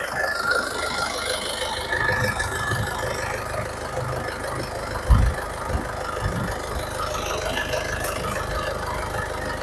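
A 2005 Isuzu Panther Grand Touring engine idles warm under an open hood, a steady low rumble with a faint rattle and one brief louder thump partway through.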